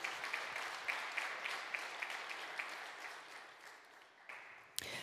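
Audience applause at a Slovenian wood industry conference day, a steady broadband wash of many hands clapping that fades gradually, with a sharp clap near the end.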